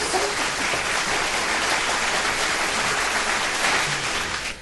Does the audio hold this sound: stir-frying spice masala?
no